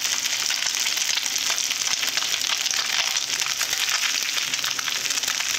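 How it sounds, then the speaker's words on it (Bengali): Small puti fish frying in oil in a pan, with a loud, dense, continuous crackle and spatter from up close and light stirring, with no talk. "মাছগুলো ভালো করে ভেজে নেব"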